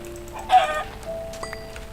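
A Minecraft chicken gives one brief clucking call, fairly close and clear, followed by faint clicks and quiet game tones.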